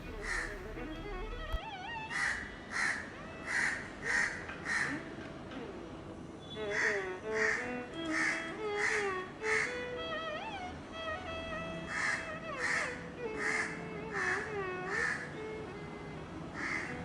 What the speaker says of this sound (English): some crows came and seemed to create a ruckus